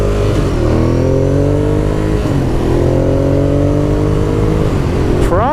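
2016 Ducati Monster 821 motorcycle ridden on the road, engine loud and close as it pulls through rising gears with sweeping revs and wind rush, a final sharp rev climb at the end, some talk under the noise.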